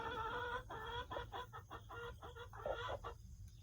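A hen vocalizes from her nesting box with a run of loud, repeated clucks and drawn-out cackling calls, close and steady over a low background hum.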